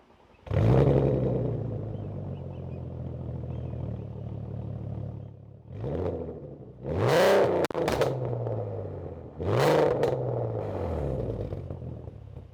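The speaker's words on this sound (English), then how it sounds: "The exhaust is really loud." A Skoda Superb 3.6L VR6 revs repeatedly, its exhaust roaring up and falling back in several loud, throaty bursts between steady idling.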